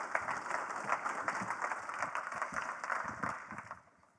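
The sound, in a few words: audience applause for a speaker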